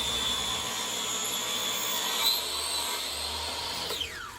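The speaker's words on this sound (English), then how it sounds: "Cut that on my cutoff saw, my miter box saw." A miter box cutoff saw slices through wood: a steady, loud whining buzz that holds for several seconds, then the blade winds down at the end.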